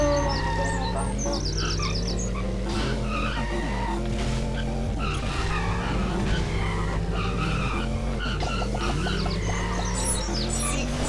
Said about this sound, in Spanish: Vamos derrapando, vamos derrapando.